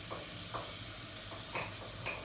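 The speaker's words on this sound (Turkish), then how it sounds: "Şimdi soğanımı ekleyip kavuracağım." Chopped onion sautéing in about three tablespoons of oil in a pot, giving a steady soft sizzle with a few brief stirring scrapes, close and fairly quiet.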